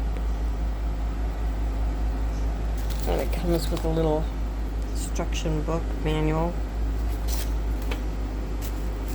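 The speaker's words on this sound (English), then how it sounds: "you'll have to excuse the noise if you can hear my air conditioner" A room air conditioner runs continuously as a steady low hum and broad hiss in the background while a person talks over it up close.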